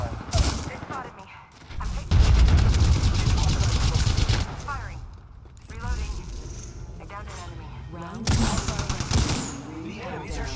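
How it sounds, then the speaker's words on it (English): Enemy gunfire in the video game Apex Legends crackles in bursts, loud dense volleys early on and sharper scattered shots later, with a voice talking at times. "The enemies are shooting at me."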